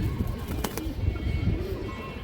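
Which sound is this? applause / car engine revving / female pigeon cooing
female pigeon cooing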